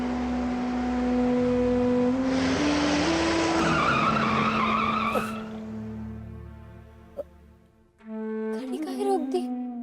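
A car brakes hard to a stop with a brief tire squeal over a running engine, which then drops to a quiet idle before a sharp knock and renewed rumble; a voice speaks briefly.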